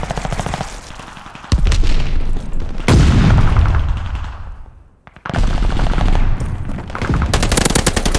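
Rapid bursts of automatic gunfire from Call of Duty: Vanguard on the Champion Hill map, loud and close, with dense volleys, a heavy boom near the middle, a brief lull, then renewed sustained firing.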